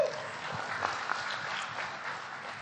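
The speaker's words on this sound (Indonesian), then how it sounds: "Tepuk tangan sekali lagi" Audience applause at a NasDem party political event, steady clapping from a crowd heard continuously at moderate loudness, slightly distant, with no talk over it.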